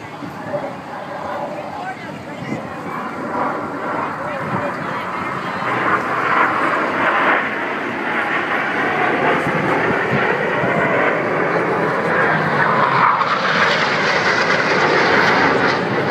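Blue Angels jets flying past Lake Point Tower during the Chicago Air and Water Show, a loud, broad engine roar that swells and stays heavy for many seconds while people talk nearby.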